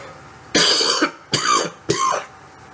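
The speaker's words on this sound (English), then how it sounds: "Let me tend to this cough." Three harsh, forceful coughs from a man, close and loud, each a short rough burst separated by brief pauses, with no speech around them.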